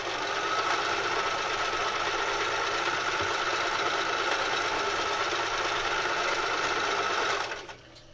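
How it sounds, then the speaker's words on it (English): A sewing machine stitches a strap onto a knife carrier, running steadily with a fast even whirring for about seven seconds, then stops abruptly. "I'm sewing this on at a perpendicular angle"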